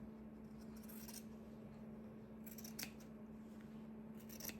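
Scissors trim fabric scraps for a crazy quilt block with a few soft, crisp snips spaced apart, faint and close over a steady low hum.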